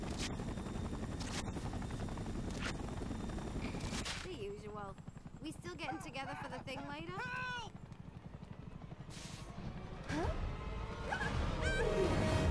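Helicopter in the Spider-Man 3 video game, a steady rotor drone running throughout beneath game effects, whooshes and a voice talking over the top.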